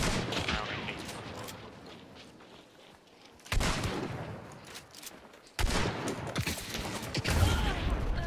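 Gunfire from a rival team in the video game Hunt: Showdown, with bursts of shots that come in waves and grow louder after a quiet stretch, and voices underneath.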